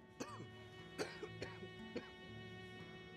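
A person coughs in a short run of harsh, rough bursts with throat clearing between them, close and fairly quiet with no speech.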